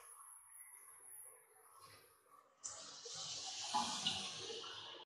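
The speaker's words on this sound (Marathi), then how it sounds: "त्यानंतर त्यामध्ये पाणी घालायचं." Water poured from a vessel into cooked masala, onion and chickpeas in a pan while making a Vidarbha-style chickpea curry; a steady, fairly close rush of pouring follows a quieter stretch of faint kitchen sound and lasts to the end.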